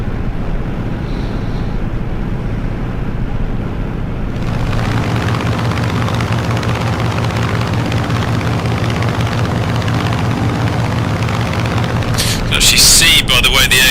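An F6F Hellcat's propeller engine drones steadily in Microsoft Flight Simulator during turbulent low flight near Hammerfest, Norway, a loud continuous hum with a rhythmic pulsing, while someone talks over it.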